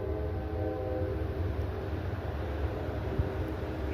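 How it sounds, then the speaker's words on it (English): A train rumbles past in the distance as a steady, low, continuous drone that holds evenly throughout with no voices. "I hear the train"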